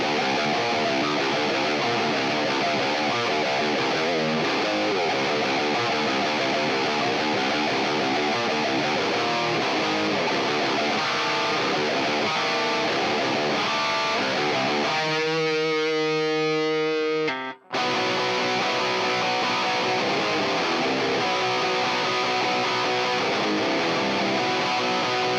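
Heavily distorted electric guitar through a Line 6 POD Go modeler, a dense sustained dirty tone playing on for most of the stretch, a brief dropout near the end, then continuing loud and alone.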